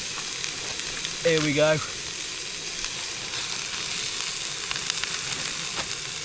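A one-pot wild-camp meal sizzles and fries on a camp stove as noodles are added, a steady close hiss running throughout, with a brief voice speaking near the start.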